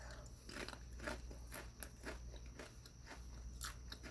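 Crunching on a sweet potato snack, a series of crisp close bites and chewing crackles repeating irregularly, quiet and near with no talk.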